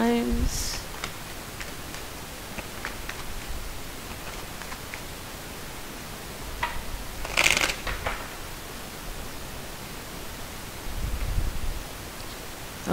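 A deck of tarot cards shuffled a few more times, soft rustles and brief riffle bursts close by, quiet against a light background hiss.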